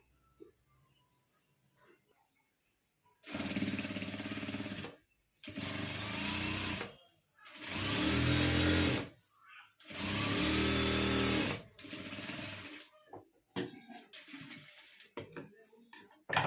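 A sewing machine stitches old denim jeans fabric in four loud, steady bursts, each a few seconds long, separated by short pauses, with quieter handling noises before and after.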